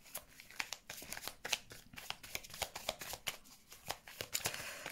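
Tarot cards shuffled and drawn by hand in a quiet room, a rapid run of crisp riffling and flicking sounds, fairly close and steady throughout, with no one talking.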